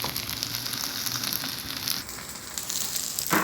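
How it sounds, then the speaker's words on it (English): Rice for party fried rice frying in a pan, a steady dense sizzle and crackle that continues evenly throughout without any talking. "I will fry mine for 3 to 4 minutes and that is it."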